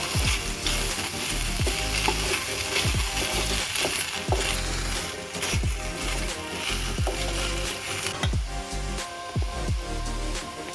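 Amla, Indian gooseberries, roasting in oil and ghee in a pan: a steady loud sizzle and frying crackle throughout, with repeated sharp clinks and scrapes of a utensil stirring the fruit.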